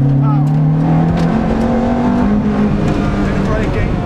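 A Ferrari F430 accelerates hard at full power on a track, its engine roaring loud and close with a rising, sustained note, and someone talks over it.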